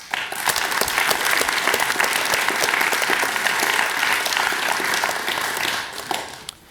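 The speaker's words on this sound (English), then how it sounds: "let's give a warm round of applause to our senior city staff members" An audience at a December 2010 city oath of office ceremony in Cupertino applauds senior city staff, a steady, dense round of clapping that holds evenly for several seconds before tapering off at the end.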